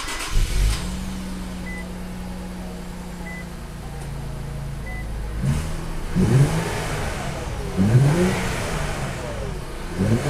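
Infiniti Q50 with stock exhaust before a muffler delete, idling with a low hum, then revved several times in rising and falling sweeps, fairly subdued and moderately close.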